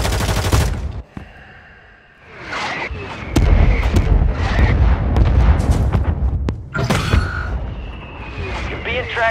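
Rapid gunfire bursts in the video game Warzone 3.0, dense and loud, with sharp cracks and booms scattered through the whole stretch and players talking over the shooting.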